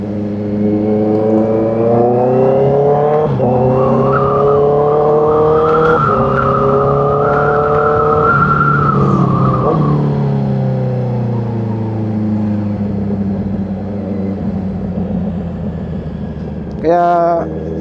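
A Honda CB650R motorcycle drones loudly and steadily through Kaybiang Tunnel, its engine pitch rising and falling through gear changes. Tunnel echo surrounds it, a rider speaks over it, and a short clatter comes near the end.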